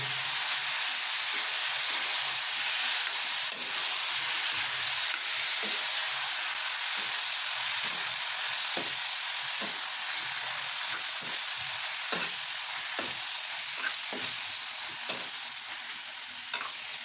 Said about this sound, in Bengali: সেগুলোকে প্রায় আমরা মিনিট সাথে ধরে একেবারে লো ফ্লেমে কষাতে থাকবো